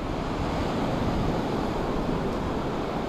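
Ocean surf rolls onto the beach at Tamandaré as a steady, broad wash of breaking waves, mixed with wind buffeting the microphone and no voices.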